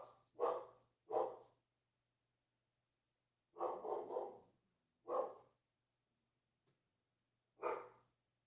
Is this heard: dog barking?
yes